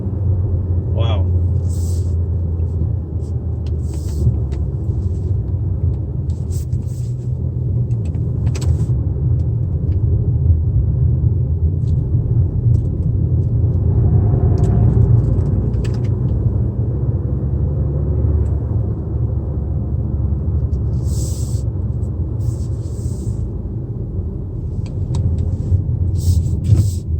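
A 2019 Mazda CX-5 with a 2.5L turbo engine cruising on a road, a steady close cabin rumble of engine and tires with someone talking over it at intervals.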